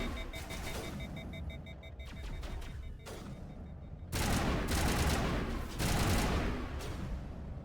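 Rapid gunfire bursts in Mass Effect Legendary Edition combat against organic Arachne enemies, close and loud, with sustained automatic fire broken by short pauses and no talk.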